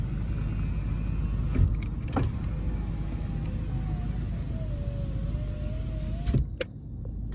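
Power window motor in a 2003 GMC Sierra 2500HD truck whirs steadily for several seconds with a rising hum, followed by a thunk as the glass stops, heard from inside the cab with no talking.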